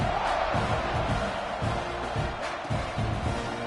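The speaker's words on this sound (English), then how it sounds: "this crowd is buzzing after that last score" A football stadium crowd at a Texas A&M vs Georgia Tech game, buzzing after a touchdown: a dense, loud, steady roar of many voices that swells in waves, heard at a distance.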